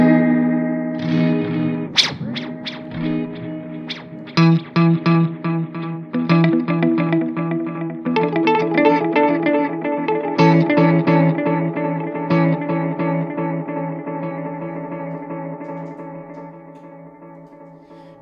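A Strymon Volante tape echo pedal with several playback heads engaged turns a played instrument into dense, layered repeats that stack and swirl with reverb-like smear, loud and continuous, building over the passage with no talking.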